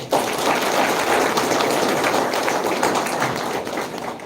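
An audience applauds to welcome a guest at a World Mental Health Day event at St Mary's, Kohima. The dense clapping starts abruptly and holds steady for about four seconds before easing slightly, loud and close.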